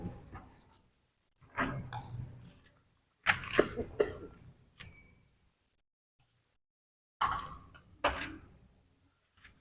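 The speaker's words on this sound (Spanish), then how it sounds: "¿Le quiere agarrar la tos o nomás fue?" Several harsh, throaty coughs come in separate bursts with silent gaps between, close by and fairly loud.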